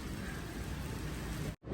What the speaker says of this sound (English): I gotta go inside because it starts raining hard